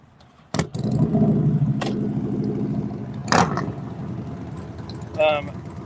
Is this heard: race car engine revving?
yes